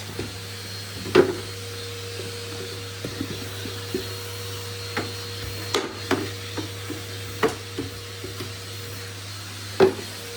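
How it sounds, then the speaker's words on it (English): A vacuum cleaner hums steadily throughout, with scattered knocks and bumps as the nozzle hits things. "I think I just might switch the vacuum cleaner off now."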